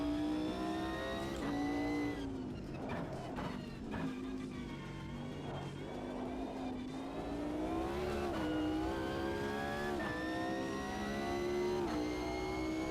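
Mercedes race car in Automobilista 2 with its engine revving hard, pitch climbing through the gears with brief dips at shifts, a loud, close, continuous roar and no talking.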